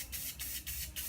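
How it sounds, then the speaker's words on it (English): An aerosol spray can sprays colour onto paper held against a straight edge for landscape spray art. Four quick hissing bursts follow a steady rhythm, close and fairly quiet. "you're just gonna spray it just like that"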